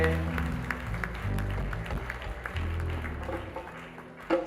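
Guests at a ceremony for Pamela and Ben applaud and cheer, a continuous burst of clapping over music and voices, swelling briefly at the end.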